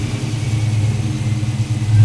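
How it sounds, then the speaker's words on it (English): An LS3 V8 swapped into a 1979 Pontiac Firebird Trans Am runs close by after starting, a deep steady idle rumble with a slight rise in revs at the very end. "the crew starts the engine in preparation of some test miles and tuning."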